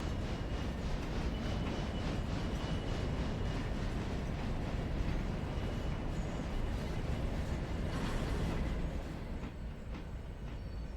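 A log train rolling along track in the railroad simulation game Railroader, a continuous loud rumble with rhythmic clickety-clack from the wheels passing over rail joints, steady throughout with no voices.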